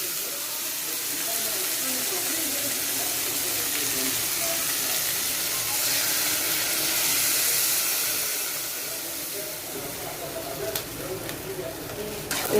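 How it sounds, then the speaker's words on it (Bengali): Curry broth poured into a hot pan of sautéed vegetables, giving a steady close sizzling hiss that swells and then gradually settles, with a few faint clinks near the end. "এই তো পরিমাণ মতো ঝোল দিয়ে দিলাম"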